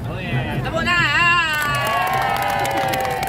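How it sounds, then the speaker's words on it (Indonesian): A large crowd of Indonesian migrant workers in Hong Kong cheers and whoops loudly, with rising and falling shouted voices over a steady roar of noise and some faint clapping mixed in. "Tepuk tangan."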